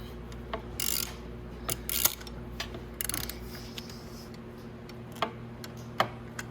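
A hand ratchet tightens a starter bolt on a Venom Grizzly 125cc ATV, giving a few short, close bursts of quick metallic clicking separated by pauses, with no talk.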